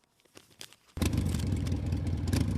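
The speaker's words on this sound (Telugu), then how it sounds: "అది నిఖిల్ బైక్ సౌండ్ కదా?" A motorcycle engine starts up suddenly after a few quiet clicks, then runs with a steady, loud, rumbling idle close by.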